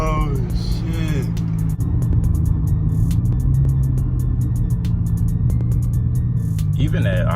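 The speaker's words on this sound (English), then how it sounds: "Even at idle, this car sounds good." An Infiniti G35 with its muffler and resonator removed idles with a steady, deep, loud rumble close by, while people talk over it at the start and the end.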